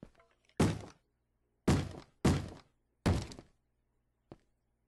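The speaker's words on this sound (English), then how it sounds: "Where is that door that they are banging on?" Mobs thudding against a door in the Minecraft video game: four heavy, hollow bangs in an uneven rhythm, close and loud, followed by a fainter single knock, with no talking.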